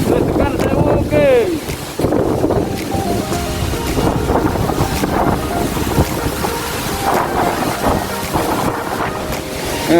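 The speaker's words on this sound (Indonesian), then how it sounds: "memang anginnya kenceng. Nggak bisa lama-lama di dekat jatuhnya air ini." Strong wind buffeting the microphone near the roaring spray of Grojogan Sewu waterfall in Tawangmangu, Central Java: loud, constant rumbling gusts, with people talking over it.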